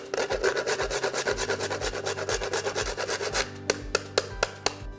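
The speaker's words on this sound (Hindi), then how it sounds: "अब हमें लेना है जायफल, जिसे नटमेग भी कहते हैं, और इसे यूं हम इसके ऊपर घिस देंगे।" Whole nutmeg rubbed against a grater over raw chicken for a Moradabadi biryani: quick, even scraping strokes several times a second, then a few slower isolated scrapes near the end, close and clear.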